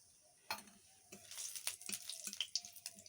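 Bay leaf, dried red chilli and whole garam masala (cardamom, cloves, cinnamon) hit hot oil in a pan, giving soft crackles and spitting sizzles in uneven bursts, with a faint clink near the start.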